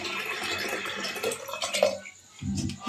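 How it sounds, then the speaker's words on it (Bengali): Water being poured into a pressure cooker holding lentils for boiling, a short run of trickling and splashing that fades out near the end. "তো আমি জল দিয়ে দিচ্ছি।"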